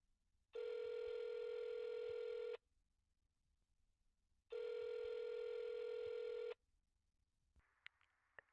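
An outgoing phone call rings on the line with two long, steady electronic tones separated by silence, followed by a faint click as it connects.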